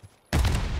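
Sniper rifle shot in Black Ops 6 video game: a single sudden loud blast that cuts in from near silence and rolls on with a dense, noisy echo and rumble.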